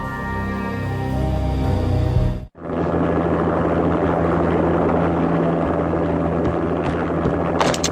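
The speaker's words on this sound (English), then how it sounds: "An armed helicopter just landed on the manor grounds." An armed helicopter landing on manor grounds in the game Max Payne, a loud steady rotor roar and engine drone after a brief cutout, close and unbroken with no talk.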